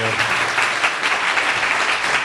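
An audience at a public talk on informal, accessible spaces applauds a speaker, dense clapping filling the whole short stretch at a steady level.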